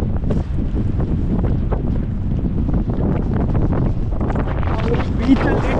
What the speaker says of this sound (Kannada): ನೋಡಿದ್ರೆ ಈ ತರ ಫುಲ್ಲು ಗಾಳಿ ಮತ್ತೆ ಮಳೆ.